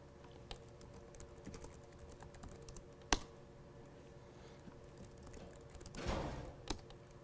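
Quiet, close-up keystrokes on a computer keyboard as a chmod command is typed in a terminal: sparse taps build into a brief burst, with one sharper key strike midway and no talk.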